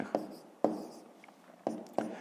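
A pen writes numbers on paper while a fraction sum is worked out, producing a few short, quiet scratching strokes in separate bursts with small pauses between them, close and soft.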